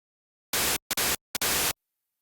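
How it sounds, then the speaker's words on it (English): Three bursts of mono white noise from a BioTek 3 synth oscillator, full-band hiss switching on and off abruptly, the first two separated by short gaps with brief blips before the second and third. "select the mono instance of white noise"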